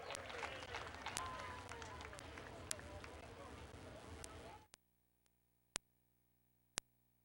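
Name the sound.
audience applause at a speedway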